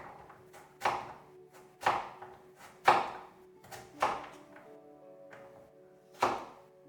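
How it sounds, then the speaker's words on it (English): A knife slices a peeled turnip into discs and then sticks on a cutting board, giving about eight crisp, evenly spaced chopping thuds over a low steady background hum. "we're slicing it in discs and then cutting those discs into French fry-like sticks"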